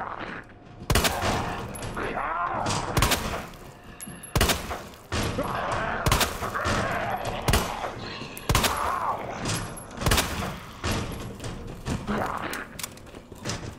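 Repeated gunshots blast out in Resident Evil 2 Remake as zombies are shot down, loud sharp cracks arriving irregularly every second or two over a dense, busy game background.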